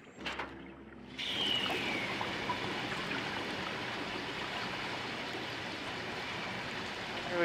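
Water rushing through pipes in the video game SOMA, a brief mechanical clunk and tone before a steady loud surge of flowing water takes over and continues without pause.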